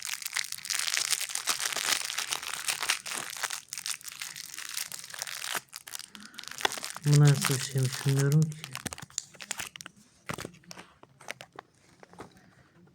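Plastic Toybox toy packet crinkles and crackles as it is torn open, a steady close rustle running throughout, with a person talking briefly in the middle.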